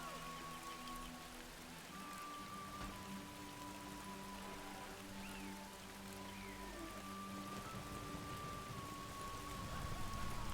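A Freezing Rain spell in the Age of the Ring strategy game, Isengard against Gondor, makes a soft, steady hiss of falling rain that stays faint and continuous, with a thin tonal game sound running through it.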